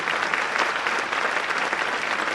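A concert hall crowd at a music hall of fame ceremony gives dense, sustained applause, a full wash of clapping from start to finish with no pauses.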